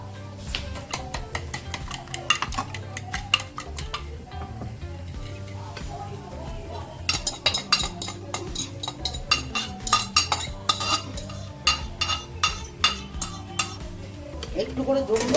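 An egg and milk mixture being stirred in an oiled pan, with repeated scraping and clinking of a utensil against the pan under a soft sizzle, growing more rhythmic and busier in the second half, close by, no talk over it.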